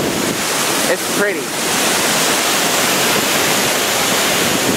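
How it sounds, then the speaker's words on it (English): Steady, loud broadband rush of a waterfall at Spences Bridge, British Columbia, filling the whole clip with constant water roar and some wind buffeting, with a brief spoken remark near the start. "I'm by a waterfall in Spences Bridge, British Columbia."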